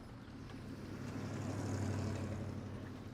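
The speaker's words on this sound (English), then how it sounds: "Get the occasional vehicle driving by." A vehicle drives by in a port city in DCS World, its low engine rumble swelling and fading as it passes at moderate distance over a dull background.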